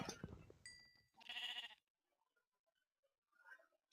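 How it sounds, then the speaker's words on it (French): Sheep bleat as they are killed in a Minecraft game running the Thormod mod: a harsh cry early on, a louder bleat near the middle, then a faint call and a sharp click at the end, with silence between. "Carnage de moutons, génocide."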